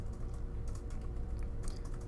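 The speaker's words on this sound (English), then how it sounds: "if I can type correctly" Quick typing on a computer keyboard, close and fairly soft, a short burst of irregular key taps over a low steady room hum.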